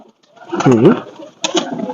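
A pigeon coos up close in a short rolling burst, followed by a muffled voice and soft rustling.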